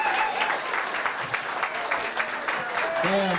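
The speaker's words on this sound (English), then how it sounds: "One more big round of applause." A crowd at a yacht club non-talent show gives a hearty round of applause, dense clapping with a few whoops, and a voice starts speaking as it trails off at the end.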